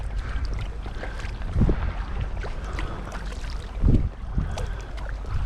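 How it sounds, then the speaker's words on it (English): Wind buffets a kayak out on open, exposed water, making a steady low rumble across the microphone, with two stronger gusts or splashing surges a couple of seconds apart. "Yeah, a bit of a wind for sure."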